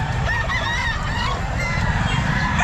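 A stag rooster crows at a bustling pet market, its drawn-out call rising clearly over a constant low crowd and market din.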